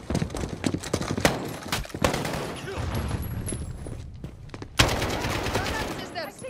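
Gunfire in a Call of Duty Modern Warfare campaign ambush on PS4: sharp, irregular shots and bursts pop over a busy battle bed, with a heavy volley around the five-second mark and brief talk-like sounds mixed in.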